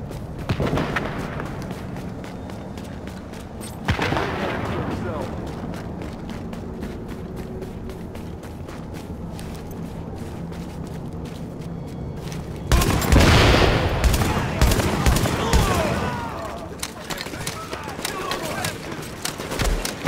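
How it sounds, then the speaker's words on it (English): Gunfire in Tom Clancy's The Division, with bursts of shots and booms from a player shootout, loudest in a heavy volley late on, mixed with people talking throughout. "they're shooting each other."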